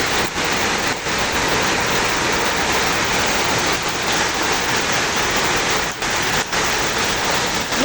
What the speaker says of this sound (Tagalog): Umuulan ng yelo.